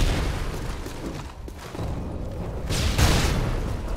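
A rocket explosion in Call of Duty: Modern Warfare 2 multiplayer gives a dull, booming thump near the end, set in a muffled, rumbling bed of battle noise with no clear voices.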